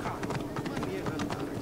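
A horse gallops in the video game Assassin's Creed Origins, giving rapid rhythmic hoofbeats under someone speaking Czech.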